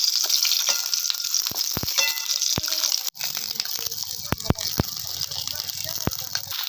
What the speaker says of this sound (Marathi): थोडंसं आपल्याला तेल टाकायचं त्याच्यावरती मस्त आपल्याला भाजून घ्यायची